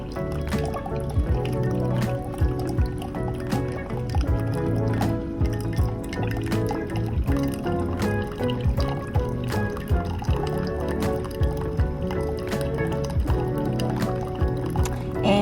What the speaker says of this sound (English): that water is very hot coming out of there